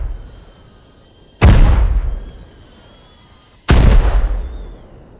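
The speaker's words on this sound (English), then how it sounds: "these mortars are hitting everywhere" Two loud, deep mortar shell explosions in the video game Arma Reforger land a couple of seconds apart, each a sharp blast with a long rumbling decay. A faint tone hums in the background.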